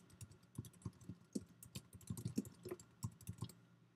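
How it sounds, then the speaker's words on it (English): Close, quiet keystrokes on a computer keyboard as a name is typed, an irregular run of light clicks with no talking. "And then you type your name."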